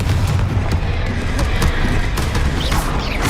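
A Confringo blasting spell explodes in the video game Hogwarts Legacy, a dense rumbling burst of booms and crackling blasts that is loud and continuous, with no voice over it.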